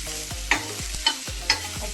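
A whole large onion frying in a pan for a home chicken roast, with steady sizzling broken by three or four sharp spatula scrapes and clacks about half a second apart, close by and without voices.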